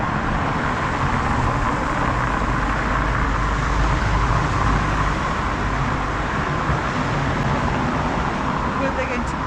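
A car rolls over loose, rattling paving stones on a semi-pedestrianised street in Paguera, a constant rumbling road roar under continuous nearby conversation.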